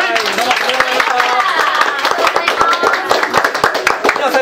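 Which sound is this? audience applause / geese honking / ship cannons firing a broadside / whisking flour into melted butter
audience applause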